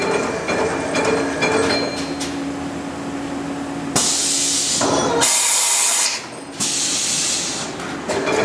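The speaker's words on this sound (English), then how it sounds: "More tool changes." Mori Seiki MV Jr CNC machine changing tools with its spindle at 3500 RPM, a loud sustained whine with bursts of hissing air blast and mechanical shifts, close up.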